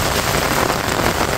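Heavy rain falls on flooded village roads, a loud close wash of continuous hiss and spattering drops with no talk.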